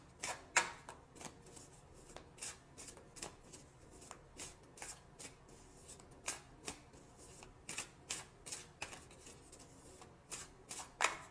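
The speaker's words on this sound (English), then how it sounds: "I'm going to choose two cards for possible outcomes for the week." Tarot cards being shuffled and picked make a quiet, close run of soft flicks and riffles in irregular bursts, with brief pauses between handlings.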